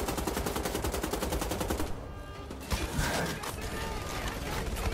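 Rapid machine-gun fire from a super soldier's heavy gun in Wolfenstein The Old Blood hammers steadily, breaks off briefly, then resumes with a thump and renewed bursts, loud and close, with game speech faintly underneath.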